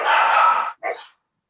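Dogs at home give two loud barks close by, a longer one followed after a short pause by a brief second bark, then silence.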